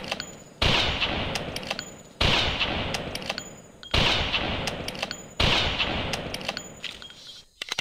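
Gunfire in the video game Carnivores Jurassic Park Revolution, with four loud, evenly spaced shots, each a sharp blast that rings out and decays over a second or more.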